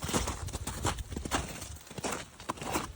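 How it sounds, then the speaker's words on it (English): A former Amish carriage horse's hooves clop on hard ground in an uneven walking rhythm, fairly close, with rustling and faint background sounds. "Luke was an Amish horse before he drove carriage in the city."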